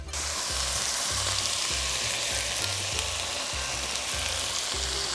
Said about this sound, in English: And we're just gonna stir that up and cook it for another couple minutes.